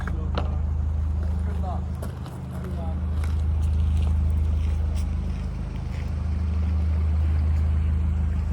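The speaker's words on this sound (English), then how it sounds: "a lovely boat coming past us there now." A motorboat engine drones steadily nearby with a low hum, swelling slightly as it passes, with faint creaks and water noise in the background.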